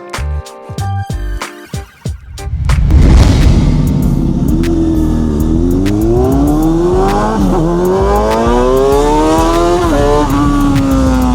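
Kawasaki 636 motorcycle, 22 years old, set up as a stunt bike: a few sharp blips at the start, then a loud, steady close-range engine running with rising and falling revs throughout.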